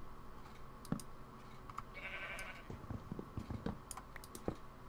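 Sheep in the Minecraft video game on a modded survival animal farm: a short, distinct bleat in the middle, faint and alone, with light computer keyboard typing and mouse clicks around it.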